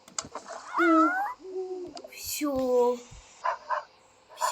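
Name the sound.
dog barking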